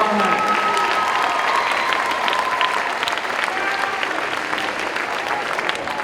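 A school pep rally crowd applauds, dense continuous clapping that fills the gym for several seconds with scattered cheers and voices mixed in, staying loud throughout.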